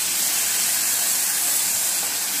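Water or gravy poured onto hot fried spice masala, with rice cooking nearby, makes a loud, steady, close steaming hiss that continues without a break and with no talk.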